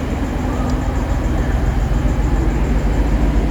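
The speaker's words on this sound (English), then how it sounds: "My train is here." A train pulls into a station platform at Deighton, with a steady loud rumble of wheels and engine running through the whole moment and no voices over it.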